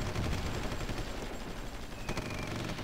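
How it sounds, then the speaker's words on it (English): Bombardment gunfire in the strategy game Supreme Ruler Ultimate, a steady rumbling barrage of dense overlapping blasts, fairly quiet and continuous with one brighter crack near the end. "let's move in now because we are taking a bombardment"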